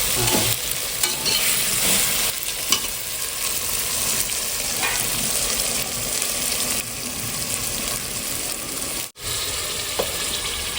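Tomatoes frying in a pan while being stirred, a loud steady sizzle with scraping strokes of a spoon throughout and one brief dropout near the end; no one speaks.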